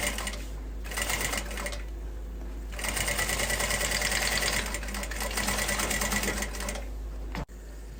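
A sewing machine stitches a zipper onto a fabric pencil case, a loud close rapid mechanical whir running steadily in bursts with brief pauses and a sharp stop near the end.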